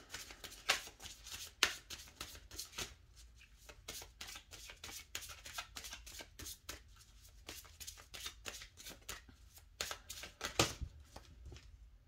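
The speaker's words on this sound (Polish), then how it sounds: "Tasujemy karty." Lenormand fortune-telling cards being shuffled by hand, a steady run of crisp riffling flicks and slaps close up, with no talk over them.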